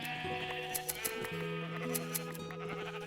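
Sheep bleat in a video game, a few wavering cries close by over a steady layer of sustained background tones, with no talking.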